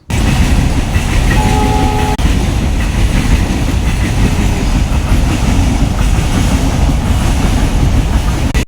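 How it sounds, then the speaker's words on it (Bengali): A train passes a level crossing with the gates down. Its loud, steady rumble and rattle fill the whole stretch, with a short horn tone early on and no voices. "ক্রসিংয়ে গেট পড়েছে যেহেতু ট্রেন যাচ্ছে"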